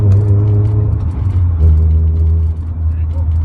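A 1998 BMW E36 316i exhaust drones at around 5,000 RPM, a loud, steady low engine hum with a slight dip partway, while someone talks over it.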